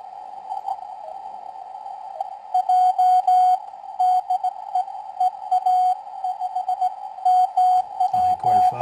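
Received radio signal on a Xiegu G106 SDR QRP transceiver: a steady carrier-like tone with bursts of keyed or modulated signal, noisy and continuous throughout, growing busier toward the end.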